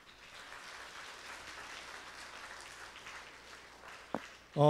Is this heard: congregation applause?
yes